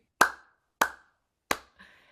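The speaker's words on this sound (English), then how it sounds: "you're gonna send it with 3 claps" Three sharp hand claps in unison from a group, evenly spaced and loud and close, followed by a softer trailing sound, with no talking.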